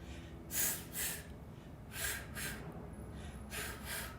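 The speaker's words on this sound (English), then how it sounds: "can you do 2 exhales?" Forceful paired breath bursts from a person doing an abs-focused Pilates floor exercise, three close double exhales in a steady rhythm over a faint background hum.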